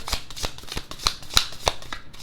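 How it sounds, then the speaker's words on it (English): Tarot cards being shuffled in quick riffling bursts, with sharp flicks and slaps repeating roughly every third of a second, close and fairly quiet. "Let's go ahead and start the shuffle."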